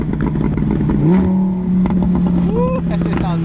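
Nissan GTR engine revs and accelerates while racing a Lamborghini Huracan, heard from inside as a steady roar that rises in pitch through gear changes, with voices over it.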